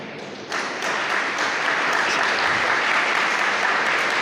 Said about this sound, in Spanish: aplauda fuerte al Señor